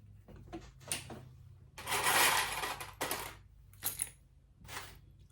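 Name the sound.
metal sewing clips clattering as they are picked up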